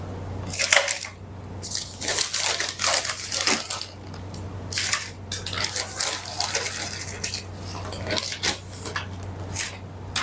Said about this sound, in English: Just filling up the soil here